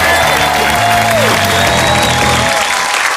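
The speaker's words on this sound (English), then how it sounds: "Tom, another huge round of applause." A TV studio audience at a world-records show applauds and cheers loudly and continuously, dense clapping with crowd whoops, while music plays underneath.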